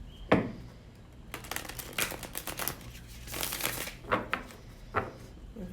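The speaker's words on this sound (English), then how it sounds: "Let's pick some cards for this week." Tarot cards being shuffled in a series of soft riffling bursts and pauses, quiet and close, with no talking.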